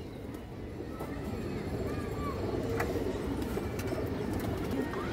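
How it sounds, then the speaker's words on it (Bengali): Silver khaki pigeons, a ring-eyed breed kept for high flying, coo softly amid a steady low ambient rumble, with a few faint chirps and light clicks scattered through. "এটা সিলভার খাকিমাদি কবুতর, খুব সুন্দর কবুতর।"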